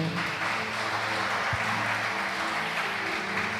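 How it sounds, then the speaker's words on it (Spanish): Applause from a church congregation honouring the Lord, a steady broadband patter of many hands lasting throughout with a low hum and one brief thump partway, no voices standing out. "¿Cuántos le dan un aplauso al Señor?"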